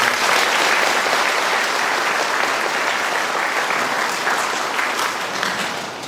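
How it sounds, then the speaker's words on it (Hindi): A Catholic parish congregation at a feast-day Mass breaks into loud, continuous applause to welcome a bishop. The clapping is dense and steady throughout, easing only slightly at the end. "हम उनके लिए जोरदार स्वागत हेतु ताली बजाएंगे।"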